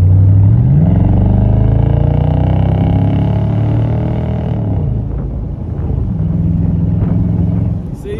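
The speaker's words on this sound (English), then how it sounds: "put the AMG original mufflers back on my SL55. And this is what it sounds like now." A Mercedes SL55 AMG (R230) fitted with its original AMG mufflers gives a loud, deep, steady exhaust drone, close by. A brief rise in pitch is followed by a settle to a lower, controlled rumble.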